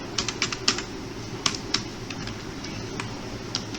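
Someone types code on a computer keyboard in a quiet room, with light irregular key clicks in short bursts and scattered single taps over a low steady hum, no voices heard.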